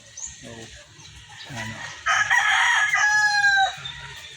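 Layer hens and chickens in a small backyard coop cluck in short bursts, then a loud nearby rooster crow rises and trails off, with a faint voice under the birds.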